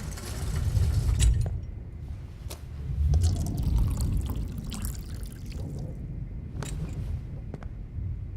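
Water pouring in the video game Life Is Strange, a fairly close, continuous splashing pour with a couple of louder surges and some light drips over low background ambience.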